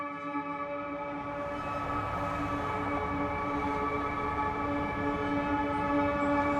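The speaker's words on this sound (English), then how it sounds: "Do you remember traffic noise like this?" Loud, steady urban traffic roar from the FDR Drive in New York, a continuous drone with sustained tonal hum running throughout, no voices.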